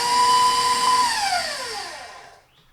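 An electric mixer whirs at a steady high pitch through pound cake batter, then winds down as it is switched off, the motor tone sliding lower and fading to near silence.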